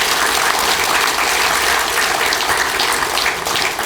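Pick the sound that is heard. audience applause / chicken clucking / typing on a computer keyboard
audience applause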